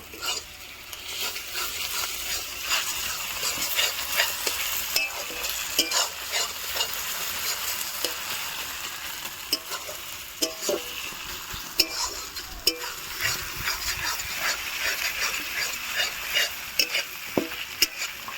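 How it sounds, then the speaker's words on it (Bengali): Meat frying in oil with onions, ginger and garlic, stirred steadily in a pan for a home Sunday curry; constant close sizzle with repeated scraping and clinking of a spoon against the pot, no talk. "বাদ বাকিটা কষানোতে দিয়ে দিচ্ছি পেঁয়াজের সাথে"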